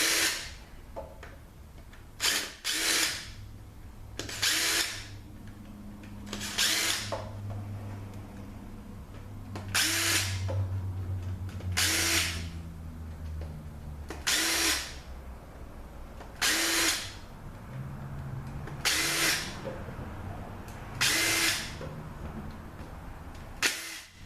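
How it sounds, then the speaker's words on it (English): A power tool, likely an impact gun, zips out pump bolts on a ZF 6HP26 automatic transmission in roughly ten short, loud bursts spaced a second or two apart, with quieter mechanical noise between them. "So let's take these pump bolts out."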